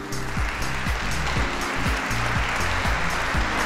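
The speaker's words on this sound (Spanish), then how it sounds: "Un fuerte aplauso." Steady applause from a conference audience after a talk on coffee in the world, a dense, continuous patter of clapping heard alone with music underneath.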